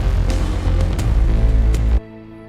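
A thick, sustained synth pad built from a guitar texture layer, with a rich low end and airy upper shimmer, steady and loud, cutting off abruptly near the end.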